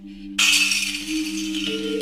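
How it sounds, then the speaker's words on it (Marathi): A plate falls in a kitchen at night, giving a sudden loud clattering crash that rings briefly and then settles over a steady background hum. "ताट पडल्याचा आवाज येतो"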